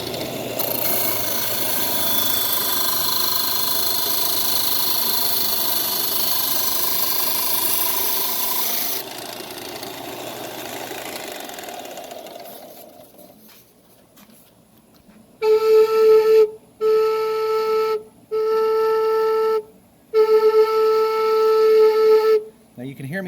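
A handmade Native American triple drone flute, two drone chambers sounded together with a slight wobble, plays several sustained held notes in separate bursts after a stretch of whirring power-tool noise from the workshop.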